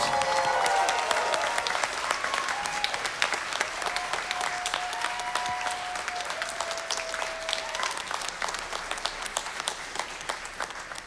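Sustained audience applause for a live band's performer, dense steady clapping throughout with faint background voices and a held tone drifting under it.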